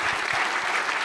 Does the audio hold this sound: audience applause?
yes